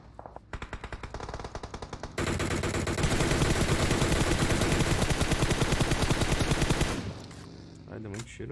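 Loud, rapid automatic gunfire in PUBG Mobile rattles in sustained bursts, building into a dense, continuous barrage before cutting off abruptly.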